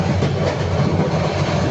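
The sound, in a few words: Sundarban Express train leaving Padma railway station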